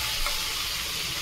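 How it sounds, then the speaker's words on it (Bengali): Butter chicken being stirred in a pan, a short close burst of steady sizzling and frying hiss. "ভালো করে আমি নেড়ে চেড়ে নেবো"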